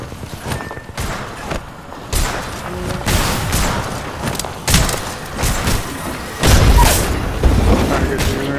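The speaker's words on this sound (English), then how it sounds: "They spotted me. I'm taking shots." Gunshots in an online video game firefight, scattered booming shots and thuds at varying distance over several seconds, with game effects in the background.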